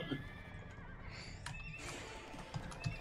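A horse in a video game whinnies, one faint neigh followed by hoof clip-clops and soft game ambience, all at low level with no talk.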